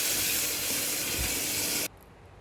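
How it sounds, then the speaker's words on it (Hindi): A paste of tomato, ginger and green chili with a pinch of asafoetida roasting in a pan gives a loud, steady broadband hiss and sizzle that cuts off abruptly near the end, leaving quiet. "अब इस मसाले को अच्छे से भून लेंगे"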